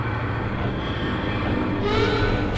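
A steady loud rumble and rail clatter of a train at a station platform in the game Half-Life 2 Episode One, continuous throughout with no speech.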